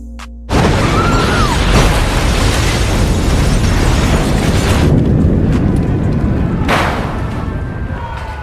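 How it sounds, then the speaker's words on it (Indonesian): A bomb detonates in a film scene with a sudden, loud boom, followed by a long roaring rumble of debris and a second burst before the noise slowly fades. "Tak lama dari itu bom pun meledak"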